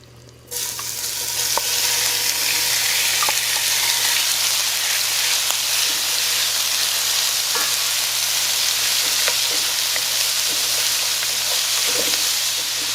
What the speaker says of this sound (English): I have about 3 tablespoons of the bacon fat, and I am going to sear our beef